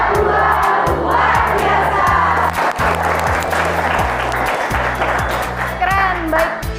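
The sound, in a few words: class performing rhythmic spirit clapping chant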